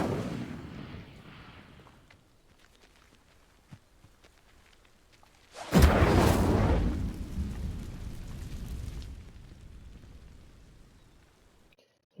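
A fire spell cast in the Hogwarts Legacy video game bursts out as a sudden loud, roaring whoosh about midway, holding for a few seconds and then fading, after a quieter stretch of low rumbling game ambience.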